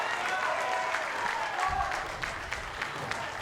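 Bowling crowd at a televised competition applauding, a burst of clapping and cheering that fills the space and then thins into scattered claps, with voices mixed in.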